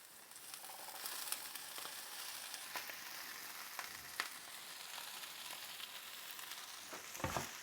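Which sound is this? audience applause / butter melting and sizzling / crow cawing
butter melting and sizzling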